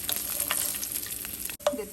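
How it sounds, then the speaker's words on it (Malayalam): Raisins frying in ghee in a pan while making spiced ghee rice, a close crackling sizzle with a few stirring scrapes and a brief pause near the end. "അപ്പം ഇങ്ങനെ വറുത്ത് വരുന്നുണ്ട്"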